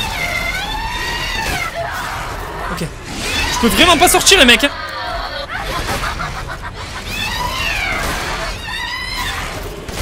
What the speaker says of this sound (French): C'est quoi ces cris là?